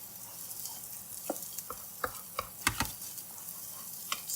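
Onions and ginger fry in a pan for fried rice, a soft continuous sizzle broken by scattered clicks and scrapes of stirring, close and fairly quiet with no talking.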